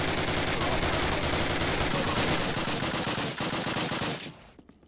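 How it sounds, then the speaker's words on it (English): Sustained MP44 automatic rifle fire in a Call of Duty video game, a loud, dense rattle of rapid shots that runs continuously before cutting off and fading at the end. "He's just shooting his MP44 at the wall, I think."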